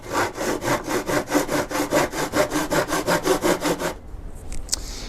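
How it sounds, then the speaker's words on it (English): A hand saw cuts through wood in quick, even back-and-forth strokes, about sixteen rasping pulls, then stops, leaving a few faint knocks. "and then I'm going to start sawing."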